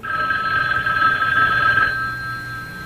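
An old-style telephone bell rings in a home with a steady, bright metallic trill. It sounds for about two seconds, then cuts off, leaving a faint room hum.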